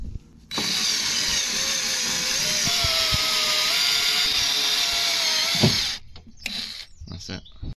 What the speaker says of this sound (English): So we're going to drill out the mechanism one now.